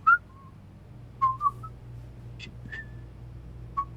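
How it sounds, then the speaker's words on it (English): Customers in Hypermarket Simulator whistle short, clear tones, a few scattered notes and brief two-note phrases spread out over a low steady background hum of the store. "Just whistling while they work."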